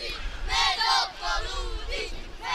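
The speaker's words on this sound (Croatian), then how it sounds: "Čujemo žestoko navijanje navijača spinuta." Football supporters at a youth match between Primorac and Spinut cheer and chant loudly as a dense crowd, with the roar rising and falling in close, energetic waves throughout.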